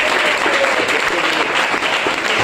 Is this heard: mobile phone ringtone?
no